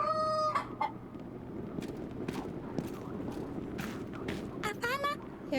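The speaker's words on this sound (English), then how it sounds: "Ah, the rooster." A rooster in the game Yes, Your Grace crows once near the start and again near the end, with clucking fowl and a soft clip-clop in between under a busy village background.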